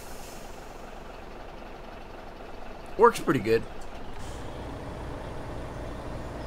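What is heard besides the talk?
Mercedes-Benz Arocs truck engine in Farming Simulator 2017 video game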